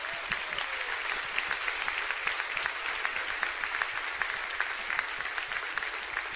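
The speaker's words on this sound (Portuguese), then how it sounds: "Uma salva de palmas, querido." A church congregation applauds during a sermon, producing steady, dense clapping from many hands that carries at an even level with scattered sharper claps throughout.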